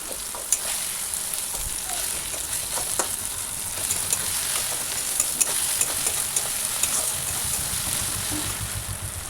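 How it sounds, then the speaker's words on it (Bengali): Onion and tomato are stirred in a frying pan, with a continuous close sizzle and repeated scraping clicks of the spoon running through the whole stretch. "আবার একটু নাড়াচাড়া দিয়ে নিলাম"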